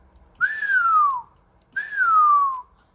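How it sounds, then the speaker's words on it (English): Two sustained whistles, each about a second long, gliding slightly downward in pitch with a brief pause between them, sent through a compact Cobra 19 Mini CB radio microphone during a transmit power test. "You give it the whistle test"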